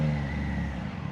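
Triumph Trident 660 motorcycle engine while riding: a steady droning engine hum with a faint rising whine, close and continuous, alone without talk.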